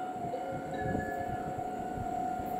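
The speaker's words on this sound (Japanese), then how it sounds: "まもなく1番線に電車が参ります。" Meitetsu train on the Nagoya Main Line approaching Shinkawabashi station, a low steady rumble with a sustained tonal hum over it, moderately loud and continuous throughout, with no talk.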